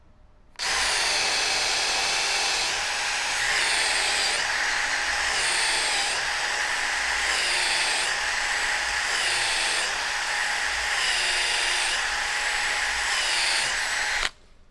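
A drill fitted with a makeshift bit bores steadily through a wooden part for a Marlin Model 30G pump, the whine loud and close and running unbroken for about fourteen seconds with slight rises in pitch as it cuts.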